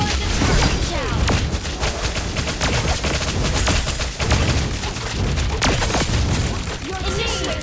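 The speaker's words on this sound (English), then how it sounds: "Your team destroyed the turret." Turret destroyed in a Mobile Legends ranked match: dense, loud, continuous game audio with booming hits and rapid blasts layered over a busy mix and game voices.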